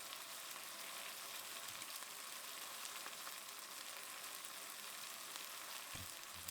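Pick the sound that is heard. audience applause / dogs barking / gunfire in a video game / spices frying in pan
spices frying in pan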